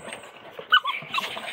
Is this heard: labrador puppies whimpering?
yes